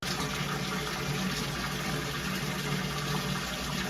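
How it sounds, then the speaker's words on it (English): Water pouring steadily into a tank during a new setup after a move, a constant close rushing gush with no breaks and no talk. "Filling up the tank with water."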